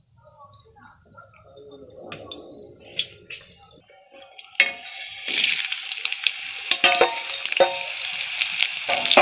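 Cooking oil heating in a wok (karai) sizzles loudly and steadily once it starts partway through, a dense hiss with scattered crackles; quiet clatter and faint voices come before it.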